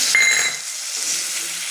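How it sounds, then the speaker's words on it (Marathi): A sharp hiss and sizzle as about two spoons of water hit a hot pan while making peanut chikki, loud at first then settling into a softer, steady crackle. "साधारण दोन चमचे असं पाणी टाकते"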